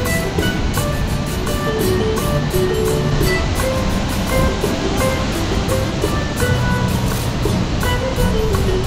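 Jang waterfall and the river it feeds in the Himalayas rush in a steady, loud, broadband roar that carries on unbroken throughout, with no voices present.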